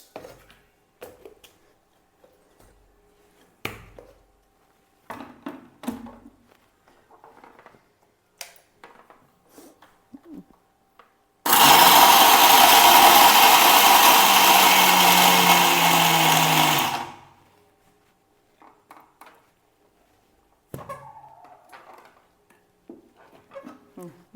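A mixer grinder whirs loudly and steadily for about five seconds as it grinds crushed rock sugar, starting and stopping abruptly, with faint kitchen clatter and quiet talk before and after.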